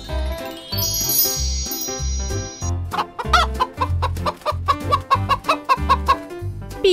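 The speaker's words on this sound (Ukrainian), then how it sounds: "Курка. Хен." A hen clucking in short repeated bursts over a bouncy musical backing with a tinkling bell-like jingle.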